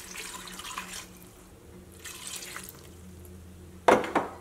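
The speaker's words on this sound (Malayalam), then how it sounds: "ഇതിലേക്ക് വെള്ളം ചേർക്കാം." Water is poured into a pressure cooker holding Robusta bananas for halwa, with soft intermittent splashing that ends in a louder, brief double splash near the close. No voices.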